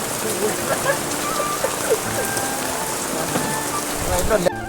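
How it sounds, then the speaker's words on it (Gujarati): Steady rain falls on surfaces at a hill-station campsite in Saputara, a continuous patter of drops with occasional louder hits, with faint voices in the background. "વરસાદ ચાલુ છે અત્યારે"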